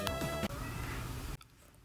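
A cat meows at a door, a short tonal cry near the start heard faintly through a muffled indoor background, then quiet.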